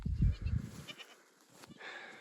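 Goats bleat on a farm, with a few loud close calls early, then quieter scattered bleats and rustling farther off.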